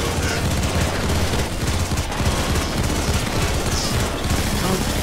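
Dense, sustained gunfire in the heist shooter PayDay 2 during a Mayhem-difficulty Safe House mission, a loud continuous rattle of shots with scattered game noise underneath.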